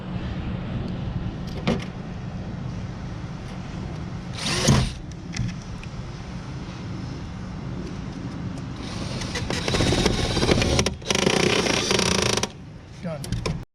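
A DeWalt power drill drives screws into an RV air conditioner unit. It gives a short whir early on, then longer buzzing bursts near the end, heard close up with faint handling noise between them.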